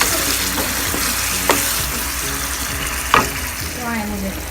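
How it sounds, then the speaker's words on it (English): Onions and tomatoes frying in a pan as sauce is poured in, a loud steady sizzle close by with a couple of brief sharp utensil knocks against the pan. "now we'll start adding the sauce"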